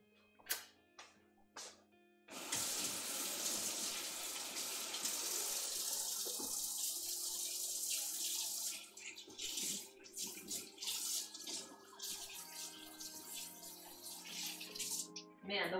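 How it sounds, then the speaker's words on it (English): Tap water runs steadily into a sink during hand washing in a home kitchen, a close, continuous splashing rush that stops abruptly, followed by scattered handling clatter. "Okay, let me wash my hands."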